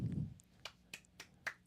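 Four quick, light claps ring out at an even pace, following a brief low thump at the start. They are faint and sharp, and no one speaks.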